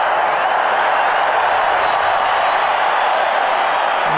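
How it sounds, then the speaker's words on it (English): Stadium crowd at a 1996 South Africa vs Australia rugby test in Bloemfontein, a broad sustained roar of cheering filling the whole stretch at steady, loud level with no breaks. "the crowd certainly has appreciated that small passage of play"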